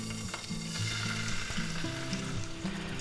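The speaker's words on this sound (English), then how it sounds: "Put about 1 tablespoon of minced garlic in there." About a tablespoon of minced garlic frying in hot oil in a pan, a steady close sizzle that runs the whole time with light stirring and faint tonal hum beneath, no talk.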